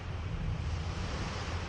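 Strong typhoon wind roars outside as a steady, dense rush with low rumbling gusts, loud and continuous for a short stretch.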